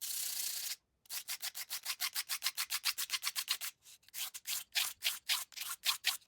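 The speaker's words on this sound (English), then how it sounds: "I'm actually gonna just sand this down just a wee bit" Rapid back-and-forth sanding of car catch can fittings with a strip of emery cloth, close and brisk in a steady rhythmic run, broken by a few short pauses.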